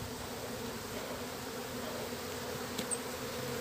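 Honeybees from a queenless colony buzz around an open hive with honey-filled frames during beekeeping work, a dense, steady close hum that runs unbroken throughout.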